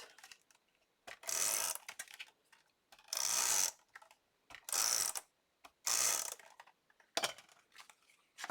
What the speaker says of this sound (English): I'll just use my tape runner for that